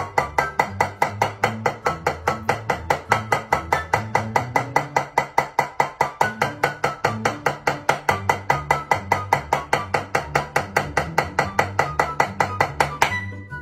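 Drum single stroke roll exercise in an 8-8-16 pattern, a rapid, steady stream of evenly spaced drum hits with slight accent shifts, played continuously for over ten seconds.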